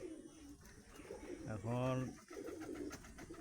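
A pigeon coos once, a low, rolling call from a cage about ten feet away beneath trees at dusk, and a person talks quietly before and after it.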